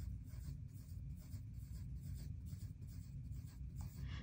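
A pencil draws an array on paper with steady, soft scratching strokes over a low background hum, close and fairly faint, with no talk.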